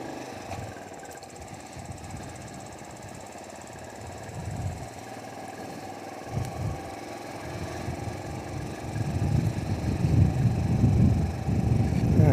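A Royal Enfield Bullet motorcycle's engine runs at steady revs on a road, the low thumping rumble swelling louder toward the end as it rides closer.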